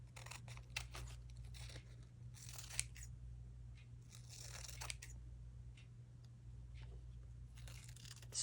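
Scissors snip paper shapes for a free-form collage, a few short crisp cuts and rustles over a steady low hum, quiet and close with no talking.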